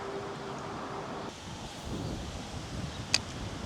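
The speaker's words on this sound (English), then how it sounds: "Oh yeah, that wind's really kicking up now." Wind gusting at a creek bank on a cold day, a steady broadband rush buffeting the microphone with one brief sharp knock near the end.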